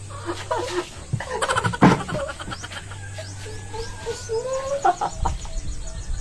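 A chicken clucks close by in short bursts, with rustling and faint background noise and no talking.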